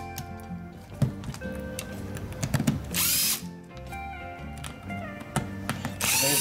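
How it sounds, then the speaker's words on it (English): A cordless power drill with a screwdriver bit backs screws out of an Andis Pulse ZR hair clipper, giving several short, loud whirring bursts with brief pauses and clicks between them, close to the microphone. "I'm going to use a bit in my drill to get this done"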